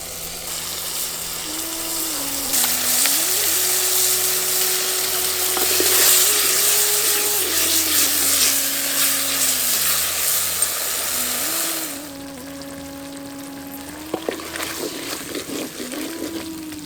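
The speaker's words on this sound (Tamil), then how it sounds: "நம்ம சேர்த்துக்கிட்ட புளி நல்லா சுண்டி கொதிக்க ஆரம்பிச்சிருச்சு." Tamarind water simmering in a pan for village-style radish chutney, a steady bubbling sizzle throughout with a brief stirring clatter near the end, close and fairly loud, with no talk.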